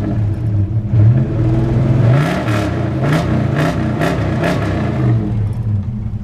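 A 1983 Ford Mustang engine held steadily near 5,000 RPM, a loud continuous close rev with a rising whine and a series of rapid rhythmic pulses midway, no speech over it.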